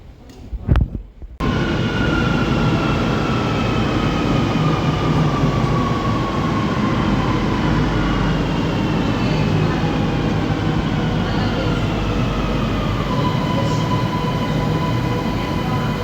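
A Barcelona metro train runs with a steady loud rumble and rolling wheel noise, and faint squeals drift through it. A brief burst of louder noise comes at the start.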